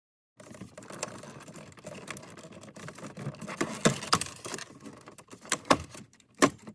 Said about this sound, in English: Here we go on the other side to pop this out. Just pry upward and it should come out.